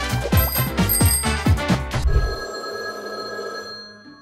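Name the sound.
telephone ringing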